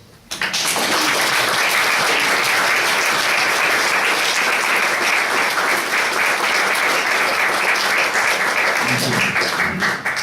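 A large audience bursts into loud, sustained applause at a religious gathering, dense clapping filling about ten seconds before tapering slightly at the end.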